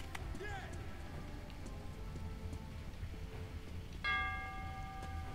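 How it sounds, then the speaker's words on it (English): Bell in the video game Metro 2033 rings out with a single clear, sustained tone late in the sequence, over a faint rainy game ambience. "ringing the bell"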